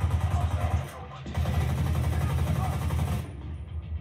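Gunfire from weapons in a video game, delivered as loud, rapid, continuous bursts with a brief break partway through before the shooting resumes and then fades.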